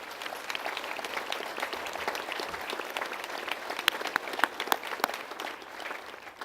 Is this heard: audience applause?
yes